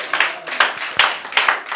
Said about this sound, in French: On va applaudir à la gloire de Dieu pour les femmes.